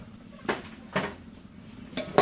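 Metal clanks on a cooking pot of tomato curry as a lid is handled and set in place, a few separate knocks close by and no voices.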